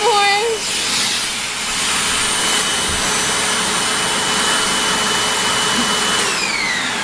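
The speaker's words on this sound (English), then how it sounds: "you're vacuuming Mom" A child runs a household vacuum cleaner over a couch and a parent, producing a loud steady whooshing drone that lasts the whole time. Someone talks over it.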